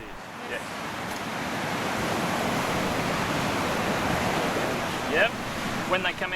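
Ocean surf rolling onto an Australian beach, a steady broad wash of breaking waves with wind noise on the microphone, continuous and fairly loud throughout with a few brief chirpy sounds near the end.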